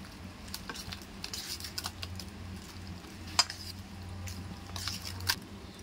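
Raw chicken being worked into a spice marinade in a bowl for chicken biryani, giving soft, quiet, wet squelching and shuffling with a few faint clicks of utensils throughout.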